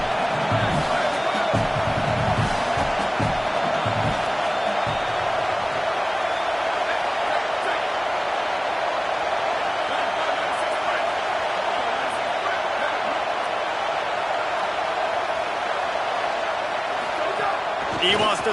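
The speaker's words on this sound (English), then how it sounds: "how nice is it to have the home crowd going absolutely bananas?" A home crowd at the Michigan versus TCU football game roars loudly and steadily throughout, a dense wall of stadium noise with a few thumps early on.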